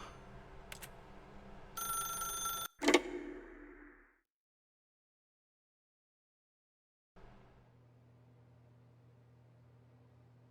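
Telephone ringing in the video game The Stanley Parable: a short burst of bright electronic ringing, then a sharp clunk as if the receiver is lifted, followed by silence and a low steady hum.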